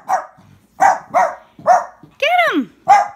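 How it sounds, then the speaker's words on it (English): A pet dog barks in short, loud, close bursts, about six barks with uneven gaps and one drawn-out yelping howl near the end, while no one speaks over it. "Stop barking, please."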